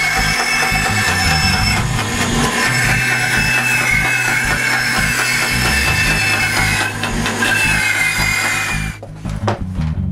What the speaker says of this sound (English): I did it with a hand drill